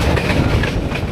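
Inside a train on a long ride in Vietnam, the cars rumble and clatter along the rails with a loud, steady roar and a quick rattling beat.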